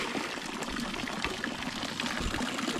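Water scooped and poured out of a tilapia pond, a steady close splashing and trickling stream of liquid that runs continuously with small irregular surges and no talking.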